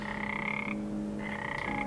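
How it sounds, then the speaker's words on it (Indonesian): Frogs croak loudly and close by in a repeated, rasping chorus, steady throughout with no voices. "Udah kodok bunyinya nyaring-nyaring bener gitu kan."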